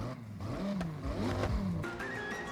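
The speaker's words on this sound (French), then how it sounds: "on va s'écouter le moteur" Video-game drift car engine revving hard, with rising and falling pitch sweeps and quick throttle blips, loud and close with no talking.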